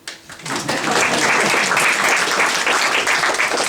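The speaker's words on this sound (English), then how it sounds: "it's a good, healthy round of applause for Keith." An audience breaks into loud, sustained clapping that builds quickly and holds steady, filling the space.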